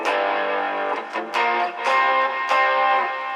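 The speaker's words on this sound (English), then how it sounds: "T-Screamer." An electric guitar played through the T-Screamer booster effect on a Boss Katana amp gives a driven, distorted tone, with several chords and notes struck in succession and brief gaps between them, loud and alone.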